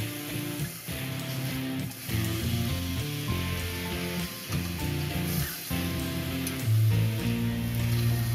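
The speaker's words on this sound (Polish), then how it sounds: "Na rozgrzanej patelni posmażam mięso z każdej strony po kilka minut." Pork loin sizzles in a hot frying pan, a continuous close crackle and spatter under background music, with no one speaking.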